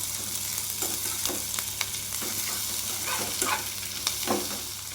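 Chopped capsicum fries in a pan while being stirred, a continuous sizzle broken by several scraping spoon strokes, close and moderately loud, no voices.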